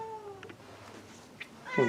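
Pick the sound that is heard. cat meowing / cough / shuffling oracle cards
cat meowing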